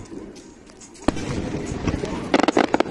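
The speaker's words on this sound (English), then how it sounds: "So, meaning fireworks." Fireworks burst at the Shizugawa Bay summer festival under a full moon: one sharp boom, then a rapid cluster of crackling pops, moderately distant, while people talk nearby.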